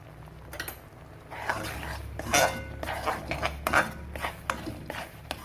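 Masala roasted in a pan and stirred constantly, producing a series of irregular metallic scrapes and clinks of a utensil against the pan over a low background hiss.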